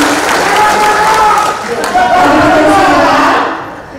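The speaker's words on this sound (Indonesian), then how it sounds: "tepuk tangan sekali lagi untuk Bapak Dr. Andika Azumi" Audience applause at a campaign event for a candidate for regent of Serang, loud dense clapping and crowd noise with raised voices, holding steady before tapering at the end.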